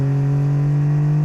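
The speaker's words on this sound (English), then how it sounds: "And I never get tired of hearing the compressor surge." A turbocharged Honda Beat engine runs with a steady, loud tonal hum, a strong low pitch with stacked harmonics held evenly through a short moment, alone with no voices.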